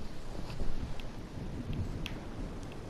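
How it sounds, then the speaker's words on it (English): Rumbling thunder and steady rain from an approaching storm in the video game Fortnite, a broad continuous wash with a few faint crackles and no talk over it. "Oh, the storm's coming, definitely."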